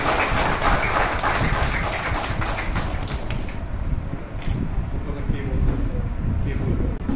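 Enthusiastic crowd applause at a coaching camp closing ceremony as an award recipient is congratulated, dense and continuous clapping filling the room throughout, loud and close.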